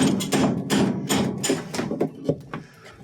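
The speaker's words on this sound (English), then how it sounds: "Give it a couple of whacks and the bearing drops right out" A hammer whacks a Whirlpool washer tub to knock out its bearing, about nine sharp, heavy metallic blows in an uneven rhythm, close and loud.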